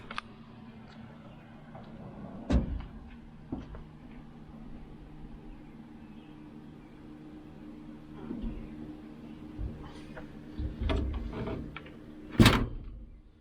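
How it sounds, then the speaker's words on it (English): A classic car's door is shut gently during carpet installation, giving a soft low thud near the middle and a sharper closing bang toward the end over a quiet, faintly humming workshop background. "Shut the door easy."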